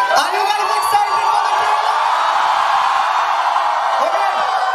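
An event audience cheering and whooping for the trailer of the Bollywood film Jersy starring Shahid Kapoor, a loud, dense, continuous roar of crowd voices with yells throughout.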